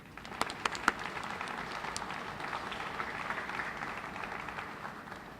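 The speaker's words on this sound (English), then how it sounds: "so I'd like to offer a round of applause in support of the city and the hospital." An audience at a groundbreaking ceremony for a school of pharmacy and student housing complex gives a round of applause, opening with a few sharp individual claps before settling into steady, moderately distant clapping.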